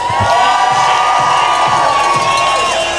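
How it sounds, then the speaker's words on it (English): A crowd cheering triathlon athletes on a hill in Tenby, dense loud shouting and whooping with children's voices, sustained without pause. "We need to keep on cheering Tenby, make some noise!"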